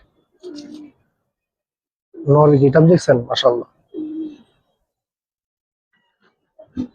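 Giribaz pigeons in a loft give short, low cooing bursts near and fairly loud, one before and one after a stretch where someone talks, with a brief final coo at the end.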